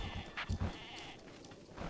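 Sheep bleating in the Breath of the Wild video game, a few short close bleats over a soft background hiss, with no talking.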